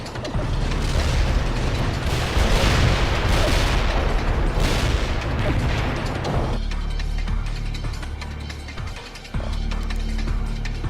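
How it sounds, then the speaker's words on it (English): Artillery barrage in the World in Conflict war strategy game: dense, loud, continuous rumbling blasts and crackling explosions for several seconds, thinning into a grinding mechanical rumble. "That's some explosion!"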